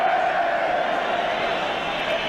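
Football crowd at an Arsenal v Ipswich Town match calling for the half-time whistle, a dense, steady roar of massed voices and whistles filling the stadium throughout.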